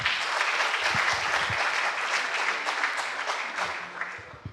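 Audience applause at an award ceremony in a hall, a dense, steady clapping from a sizeable crowd that holds strong and slowly tapers off toward the end, with no voices over it.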